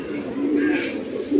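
Giribaz high-flyer pigeons, a snake-eyed adult pair, give low, throaty coos nearby, rising and falling in short phrases.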